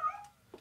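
A cat gives one short, close meow in a castle house, then a faint second mew follows.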